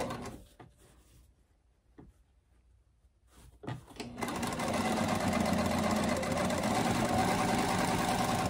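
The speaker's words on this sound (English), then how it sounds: "we are gonna serge all the way around, keeping this fly area intact" After a few quiet seconds with faint clicks and handling noises, a serger starts up and runs steadily along the seams of shorts, a loud, continuous whirring hum that holds to the end.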